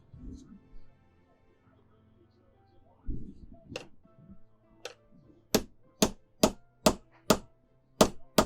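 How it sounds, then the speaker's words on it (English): A hammer strikes a metal punch into a fork to make a hole for a sloth pendant: sharp, ringing metallic blows come evenly spaced and close, about eight in a row near the end, after some quieter handling clatter. "I'm going to punch a big hole for nose"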